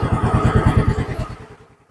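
A Yamaha Fazzio scooter with keyless ignition starts up, its small engine idling in a steady, close, throbbing putter that fades away after about a second and a half.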